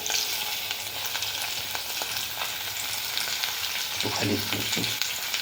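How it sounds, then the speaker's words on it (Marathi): Freshly washed, cut okra sautés in hot oil, making a constant close-up sizzle. A burst of stirring clatter comes toward the end. "ही भेंडी आपल्याला छान परतून घ्यायची आहे तेलामध्ये"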